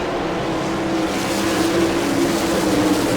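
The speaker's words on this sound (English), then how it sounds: "Quick car number 92, Danny Smith, shows them the way around this Eldora half-mile track" Sprint race cars circle the Eldora half-mile dirt track in Rossburg, Ohio, during an All Star Circuit of Champions event, engines droning in a steady, loud, continuous roar with no voices.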